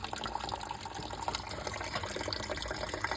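Dental stone is stirred into water in a bowl, a continuous wet swishing and sloshing, close and steady throughout without pause.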